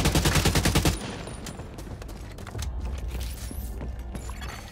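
Gunfire in The Division 2, a rapid burst of evenly spaced shots for about a second, then a lower rumble of game combat and mechanical clatter.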